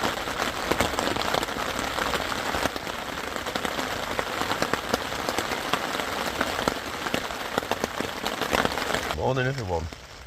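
Heavy rain drums steadily on a Naturehike Massif hot tent overnight, a dense, continuous patter close overhead that runs unbroken, with a brief tonal sound near the very end.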